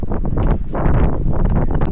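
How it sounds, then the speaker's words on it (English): Strong wind buffets the microphone outdoors in Key West, a constant loud roaring rumble with gusty swells and rustling throughout, no voices. "Very windy"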